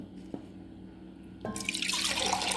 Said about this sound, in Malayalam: ഇതിൽ കുറച്ച് ഉപ്പ് വെള്ളം ഒഴിച്ചു കൊടുക്കുന്നുണ്ട്